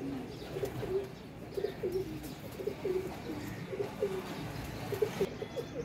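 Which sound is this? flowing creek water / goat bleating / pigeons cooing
pigeons cooing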